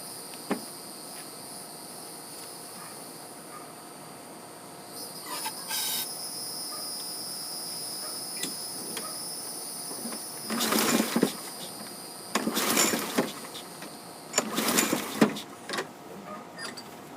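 A non-running 2007 Toro lawn mower engine is cranked over several times after a shot of starting fluid, giving short bursts of whirring pull-start cranking that fail to catch, spaced apart over a quiet outdoor background with insect noise.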